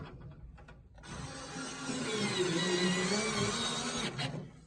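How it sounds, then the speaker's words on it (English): Screws are driven back into the tray of a VTM vending machine during a motor wire repair, giving a steady motorized whir that builds for about three seconds and then cuts off, with no talk over it. "put your screws back in, like so, and then turn back on your machine"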